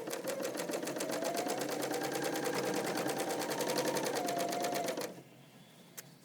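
Sewing machine running a continuous seam on blue jeans, a fast steady needle rhythm close up for about five seconds before stopping abruptly, followed by quiet with a single faint click.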